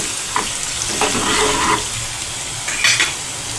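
Eggplant curry cooking in a pan, with soft sizzling and frying under intermittent scrapes and clinks as a spoon stirs it in a few short bursts, close and moderately loud.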